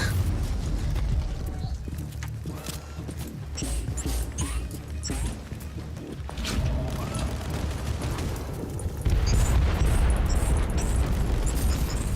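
Bombs exploding in the video game Inquisitor Martyr, a run of booming blasts and crackling debris over a rumbling low bed, growing louder near the end.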